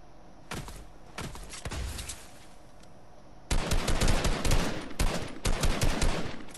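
Machine gun fire in Fortnite aimed at snowmen, scattered single shots early, then a loud sustained burst of rapid automatic gunfire close up in the second half.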